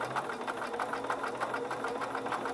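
A sewing machine stitches a curved hem in fabric with a steady, fast mechanical chatter that runs throughout at moderate, close level.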